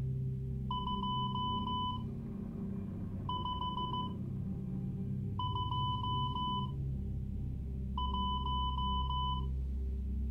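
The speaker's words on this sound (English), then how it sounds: "I'm going to send it in Morse code." Morse code beeps: four separate groups of short, steady electronic tones in a dot-and-dash rhythm, clear above a constant low hum with no talking.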